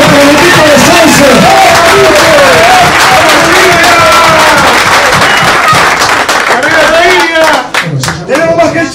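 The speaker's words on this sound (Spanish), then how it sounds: "Fuerte el aplauso para el equipo de Sauce." A crowd at an amateur football awards ceremony gives loud, sustained applause and cheering for the Club Sauce team, with shouts and whoops over dense clapping that thins slightly near the end.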